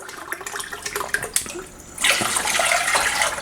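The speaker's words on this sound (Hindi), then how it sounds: "फिर आपका जो एक पानी का गिलास है वो दूसरा पानी का गिलास आपने इसमें डालना है।" Water poured from a glass into a pot while making a fat-cutter tea, a broad splashing pour starting midway and running steadily to the end after a few soft clinks and handling sounds.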